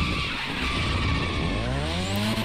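Car drifting in The Crew Motorfest, tires squealing loudly and continuously over a racing engine roar, with a rising engine tone as the slide carries on.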